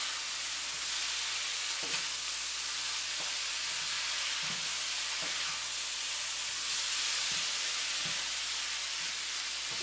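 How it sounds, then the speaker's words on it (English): Taco filling with cheddar and Monterey Jack cheese being stirred in a pan for bell peppers, a steady soft sizzle and hiss with repeated spoon scrapes and stirring thumps throughout. "Stir everything all in."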